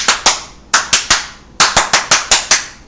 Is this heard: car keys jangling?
no